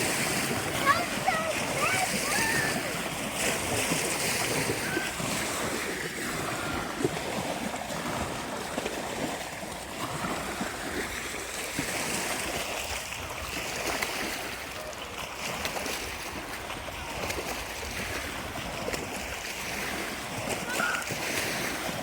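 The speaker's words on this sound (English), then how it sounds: "There must have been a speedboat, huh? Those are some big waves for a while." Big waves from a passing speedboat splash and wash steadily against the shore, a continuous loud watery roar with people talking over it.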